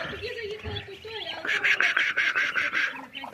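Ducks quack close by in a quick run of repeated calls, with a voice talking just before them.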